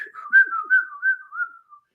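A voice whistles a wavering series of high tones, imitating the Captain Crunch toy plastic whistle, a few linked pulses over about two seconds that fade out.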